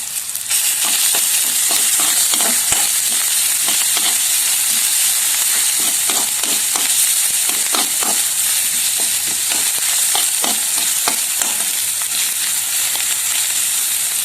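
Prawn masala fries steadily in a pan with a continuous bright sizzle, punctuated by repeated scraping strokes of a spoon stirring through it, close and loud throughout with no talking.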